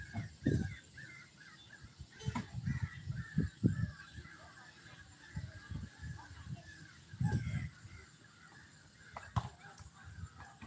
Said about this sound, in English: You hear my crows out there?